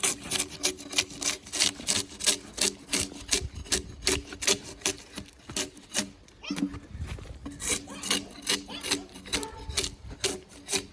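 A draw knife strips bark from a log in fast repeated scraping strokes, each a close, rasping rub in a quick steady rhythm, with a brief pause midway.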